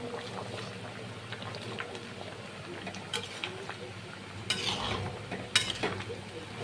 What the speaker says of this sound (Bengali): এখন আমি চিংড়ি মাছটা দিয়ে দেবো।